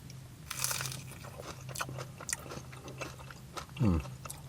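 Crunchy bites into a battered potato scallop dipped in curry sauce at a fish and chip shop in Yorkshire, close chewing and crunching sounds over a low steady hum, with no talking.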